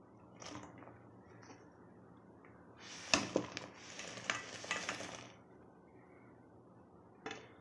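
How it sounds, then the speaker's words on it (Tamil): Jackfruit payasam with jaggery being stirred in a pot at home, a burst of scraping and clattering from a spoon against the vessel for a couple of seconds, with softer faint scrapes before and after. "இப்போ நல்லா கிளறி விட்டுட்டே இருக்கலாம்"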